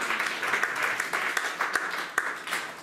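A church congregation claps and cheers in a dense, steady wash of applause, with sharper individual claps popping out now and then across the whole stretch.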